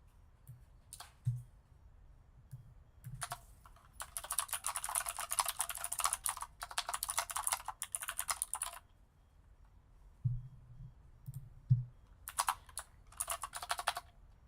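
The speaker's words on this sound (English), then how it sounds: "I'm sorry if you can hear me typing" Loud typing on a very noisy computer keyboard, rapid clattering bursts of keystrokes separated by short pauses, close and alone without talk.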